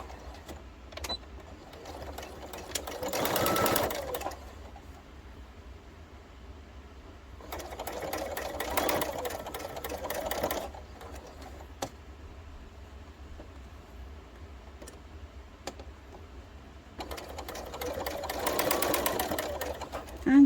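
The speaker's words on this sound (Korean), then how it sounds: "여기서부터 여기 바느질을 할게요" A sewing machine stitches around a shorts pocket in three separate bursts of fast, whirring needle runs, each lasting a couple of seconds, with quiet pauses between them; close and fairly loud, with no talking.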